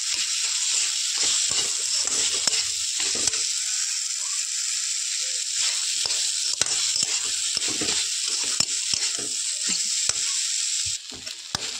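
Sweet olive pickle mixture fries and is stirred in a pan over a low flame, a steady close sizzle broken by repeated sharp scrapes and knocks of the spatula throughout.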